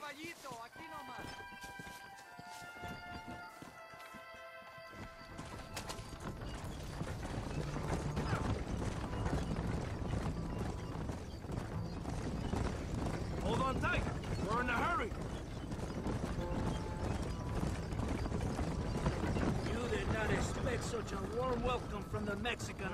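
Horse hooves clip-clop at a run in the Red Dead Redemption video game, a rapid rhythmic drumming that grows louder midway and carries on under voices, music and mechanical rattling.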